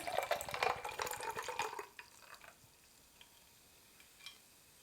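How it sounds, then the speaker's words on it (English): A blueberry wine and liquor mixed drink pours steadily into a glass for about two seconds, then stops, leaving a few faint drips and clinks in a quiet room. "we're going to go ahead and pour that in our glass here."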